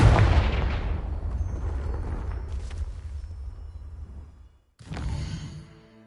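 A Confringo fire spell in the Hogwarts Legacy video game blasts with a heavy boom that rumbles and fades over several seconds. A second sharp fiery burst follows near the end.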